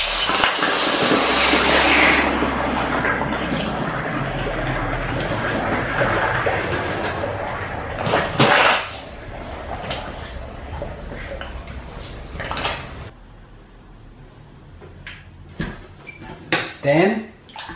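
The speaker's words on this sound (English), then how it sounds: "Then we're going to plunge it then in cold water." A hot lost-wax casting flask holding gold, plunged into a bucket of cold water: a loud, sustained hissing and bubbling rush that slowly fades, followed by clinks and clatters of metal in the water.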